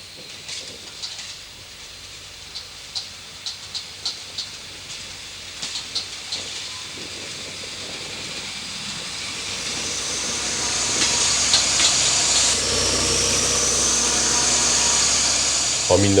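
Caravelle X 4300/4500 diesel railcars at Nancy station: a string of sharp clanks and knocks early on, then a swelling hiss and engine rumble that grows louder and holds steady toward the end.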